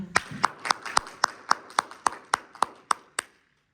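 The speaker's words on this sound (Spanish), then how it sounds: "a quien recibimos con un fuerte aplauso, por favor" About a dozen sharp, evenly spaced claps from a small audience welcoming a lecturer at a seminar, close and fairly quiet, fading out at the end.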